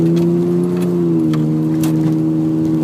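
A Subaru SVX EG33 engine in a T25 T3 van with an automatic gearbox pulls at about half throttle up a steep hill, a loud, steady droning hum whose pitch dips slightly as it shifts, with faint rattles over it.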